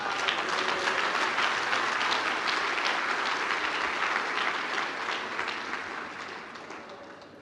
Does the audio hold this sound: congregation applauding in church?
yes